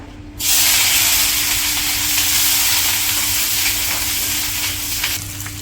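Green chilies hit hot oil in a pan with a sudden loud burst of sizzling that settles into steady, close frying hiss, in a village kitchen at night.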